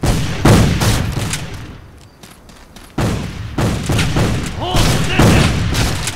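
Gunfire in the Civil War: Secret Missions video game, with several sharp shots and booming blasts in bursts, a quieter lull in the middle, and a voice speaking briefly among the shots.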